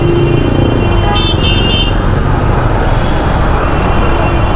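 Dense roadway traffic stuck in a jam rumbles continuously and loudly, with a few short car horn toots rising above the engine noise.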